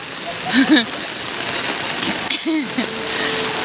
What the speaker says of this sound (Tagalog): Bumuhos ang ulan, ha?